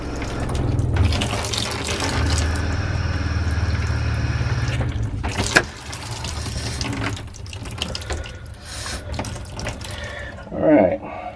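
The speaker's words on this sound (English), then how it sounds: "So that way it flushes through that line and then back into the freshwater tank." Water rushes through plumbing on a Forest River Geo Pro RV being winterized, a steady hissing flow that comes and goes, with a few knocks and gurgles near the end.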